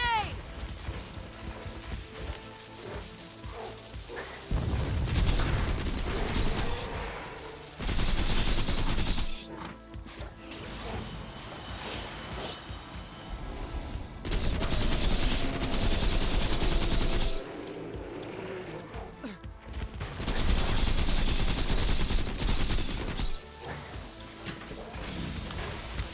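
Gunfire from the Borderlands video game, with a grenade thrown, comes as loud sustained bursts of rapid automatic shots and blasts that alternate with quieter stretches of game sound and background effects.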